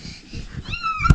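A kitten meows once in a short, rising high-pitched cry, close and clear, with faint indoor shuffling beforehand.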